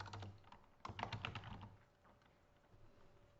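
Typing on a computer keyboard while entering an author's name in a word-processing document, a close run of quick, uneven key clicks that thins out to near silence partway through.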